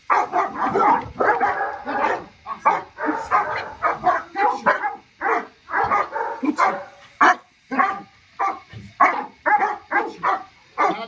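A dog barks repeatedly in close, loud, rapid bursts, with some yips mixed in, continuing steadily throughout.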